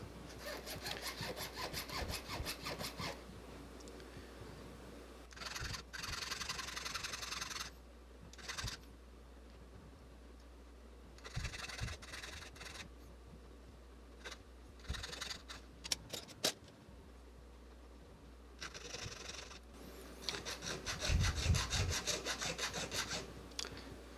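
A jeweler's saw rasping at a metal marquise diamond frame to cut a taper, in intermittent bursts of quick back-and-forth strokes separated by pauses, faint and close.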